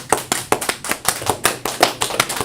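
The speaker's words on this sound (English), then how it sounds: "Let's clap it up for that brother right there." A few people clapping for a brother at a religious feast gathering, close, sharp individual claps in a quick, uneven rhythm with no talking.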